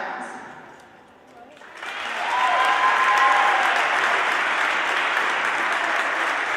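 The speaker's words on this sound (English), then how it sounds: "Ladies and gentlemen, another round of applause for our seniors on senior night" A crowd at a girls' basketball senior night breaks into applause after a brief quiet moment, loud, sustained clapping filling a gym along with a few cheers.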